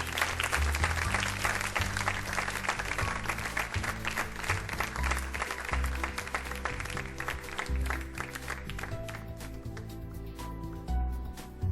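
A quiz-show audience applauds the Delhi College team at length, dense sustained clapping that thins out toward the end, with faint background tones beneath.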